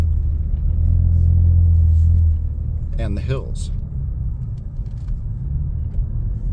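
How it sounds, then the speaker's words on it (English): Front-wheel drive car driving up a snowy hill road, a steady close low engine rumble and road noise from inside the cabin, easing after a couple of seconds, with someone speaking briefly partway through. "I am driving on this road in a front-wheel drive, and it's doing just fine on the snow"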